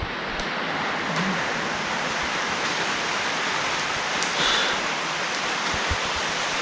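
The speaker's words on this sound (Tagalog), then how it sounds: "Umuulan kasi." Heavy typhoon rain pours steadily outside a closed commercial building beside a mountain highway, a dense, loud, continuous hiss with no breaks and a few faint knocks underneath.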